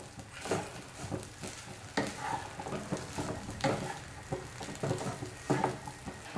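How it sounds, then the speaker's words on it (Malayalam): A spoon stirs upma with sugar in a pan, scraping and thudding in an uneven rhythm over a soft sizzle. The sound is close but fairly quiet. "നന്നായിട്ടൊന്ന് മിക്സ് ചെയ്ത് കൊടുക്കാം."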